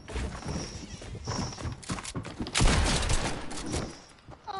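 Game gunfire in a Fortnite match, a cluster of sharp shots and impacts rising to a loud burst midway, mixed with busy in-game noise and no talk.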